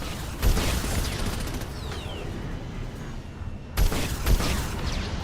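Heavy weapon fire in Mass Effect Legendary Edition: a sharp blast near the start, then two more close together toward the end, over a constant background rumble.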